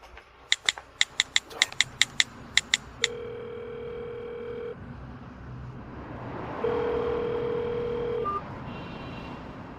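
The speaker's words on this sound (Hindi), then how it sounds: "ठीक है, माँ एक फोन करने जा रही है।" A telephone plays a quick run of keypad dialing beeps, followed by two long, steady dial tones separated by a short gap, heard alone and close with no talking.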